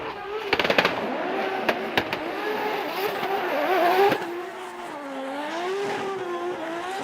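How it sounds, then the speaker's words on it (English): A Toyota GR86 drift car at full throttle on a snowy course, its engine wailing and wavering in pitch through a slide, close and loud, with sharp pops and bangs from the exhaust along the way. "a lot of throttle through outside zone 2"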